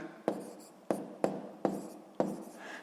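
Numbers being written on paper during a sixth-grade subtraction exercise: five short, distinct scratchy strokes spaced unevenly, close and fairly quiet.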